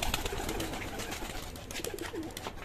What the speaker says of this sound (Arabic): بس الحمام بينزل اهو